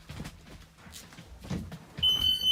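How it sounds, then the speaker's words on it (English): A steady electronic bus emergency door buzzer starts partway through and holds, fairly loud, over low rumbling background noise. "And the buzzers will go off always."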